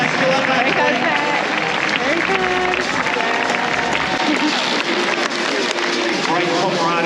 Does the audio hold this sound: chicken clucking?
no